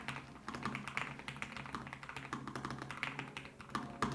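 Keys on a Lowfree Flow low-profile mechanical keyboard are typed in a quick, irregular run of crisp, light clicks and taps, close and fairly soft, with no voices.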